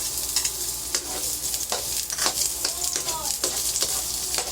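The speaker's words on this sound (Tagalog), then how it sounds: "At magigisa po tayo ng sibuyas, bawang at kamatis" Onions sautéing in cooking oil for ginisang ampalaya, a steady close sizzle broken by repeated scraping and stirring strokes in the pan, with no talking.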